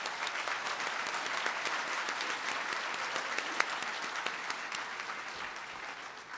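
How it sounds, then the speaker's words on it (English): Steady applause from a commencement ceremony audience after scholarship totals are announced, a full, even wash of many clapping hands with a few louder claps standing out, sustained throughout without speech. "That deserves a round of applause."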